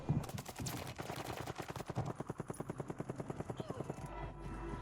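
Rapid automatic gunfire rattles in a first-person shooter video game, a fast steady burst of distant shots lasting several seconds before stopping, with faint game ambience around it.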